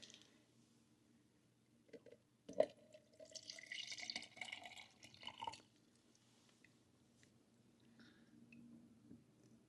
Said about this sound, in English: let's try to pour some water in there again